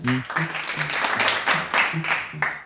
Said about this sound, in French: Je crois qu'on peut vraiment vous applaudir.